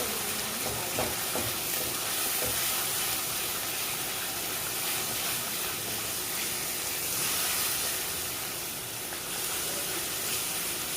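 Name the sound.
stirring masala with yogurt in a hot pan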